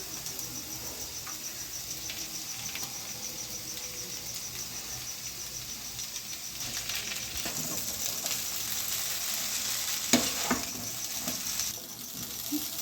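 Chowmin stir-fries on high flame with vegetables, soybean and tomato sauce, a soft steady sizzle with occasional scraping stirs that grow louder and busier toward the end, near but fairly quiet, with no talk.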